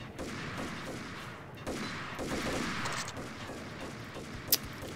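Gunfire from the first Max Payne game, with a sniper rifle involved, amid a dense clatter of shots and mechanical noise, ending in one sharp crack near the close.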